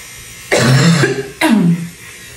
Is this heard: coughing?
yes